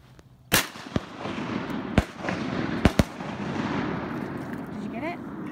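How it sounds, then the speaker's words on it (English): Distant shotgun shots from duck hunters in Virginia, several sharp cracks spaced irregularly over a quiet outdoor background, with faint bird-like calls near the end. "They seem to be taking a lot of shots over there"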